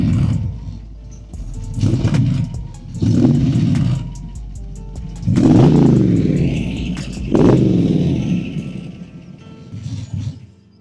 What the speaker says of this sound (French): Alors, pour la démarrer, petit plus, j'adore. Faut appuyer sur le bouton, écrit Start avec le Cobra.